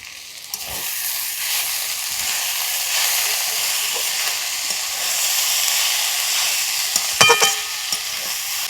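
Vegetable filling with chopped coriander and Maggi masala cooks in a pan for a sweet pitha, giving a steady close sizzle and hiss with occasional stirring scrapes and clinks of the spatula.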